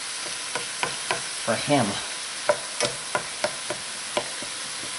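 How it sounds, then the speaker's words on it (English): Whole wheat pasta frying in a pan for chop suey, with a steady sizzle and repeated stirring scrapes and taps close by. A voice speaks briefly. "Keep frying it up a little bit more."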